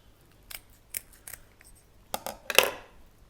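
Kitchen scissors snipping through a Dover sole along the inside of the belly cavity, a series of separate crisp cuts building to a louder closer snip near the end, with no talk.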